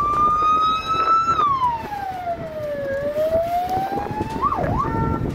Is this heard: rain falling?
no